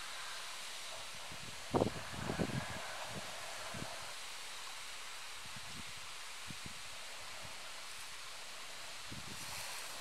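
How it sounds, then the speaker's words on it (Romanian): Wind gusting across an outdoor fishing spot, a continuous breathy hiss with rough buffeting on the microphone, a few louder thumps and rustles early on, then steady roaring air to the end. "cu toate că bate vântul"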